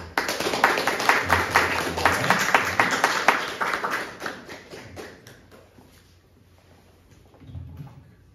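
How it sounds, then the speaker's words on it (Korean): A church congregation claps to welcome a manager to the front at a Monday worship service, a burst of close hand clapping that tapers off into quiet, with a few light knocks near the end. "우리 푸제 매니저 나올 때 우리 환영의 박수로"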